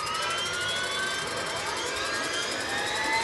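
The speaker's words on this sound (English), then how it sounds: "These combat vehicles have a helicopter engine, same as the Mi-8 helicopter has." T-80U tank's gas turbine engine, a helicopter-type engine like the Mi-8's, running with a steady loud whine and broadband roar, constant and close throughout, with no talk.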